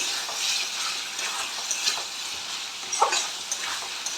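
An onion-spice mixture fries and sizzles in hot oil, a close, steady crackling hiss broken by a few sharper pops and stirring scrapes, with no talking.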